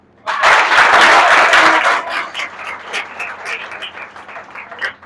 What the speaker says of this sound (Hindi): प्रमुख रूप से रुद्रा सर के लिए एक बार और जोरदार ताली